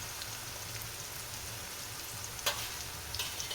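Garlic paste frying in hot oil in a pan for zunka, a soft steady sizzle and crackle with a few sharper pops near the end, fairly quiet and with no voices.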